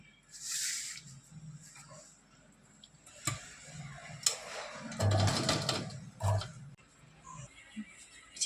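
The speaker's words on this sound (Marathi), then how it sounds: "इथून आपल्याला अशी शिलाई मारून घ्यायची आहे या बाजूला आणि या बाजूलाही" A home sewing machine stitches a homemade pouch, running in short bursts with a soft rhythmic whir and ticking, with quiet pauses between the stitching runs.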